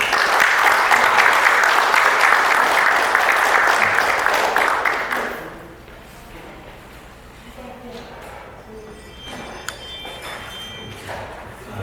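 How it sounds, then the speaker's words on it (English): Audience applause at a Lao Evangelical Church ministry gathering: loud, dense clapping fills the first five seconds, then drops off sharply into quiet room murmur with a few faint taps and a voice. "So please give him a round of applause"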